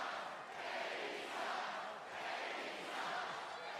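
A wrestling crowd at WWE Raw in Omaha chants together, a steady roar of many voices swelling and dipping in a repeating rhythm, loud and filling the space with no single voice standing out.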